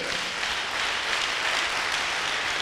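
A church congregation bursts into sustained applause, a dense, even wash of many hands clapping at once for a few seconds, with no one speaking over it.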